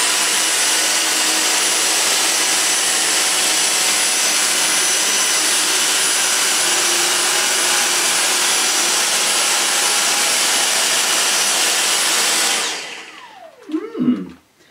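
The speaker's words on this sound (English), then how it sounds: "I'm going to use both these cleaners at the same time" A Dyson DC35 and a Dyson V6 cordless vacuum cleaner running together give a loud, steady, close motor whine and airflow roar that holds evenly, then cuts off near the end with a few handling clunks.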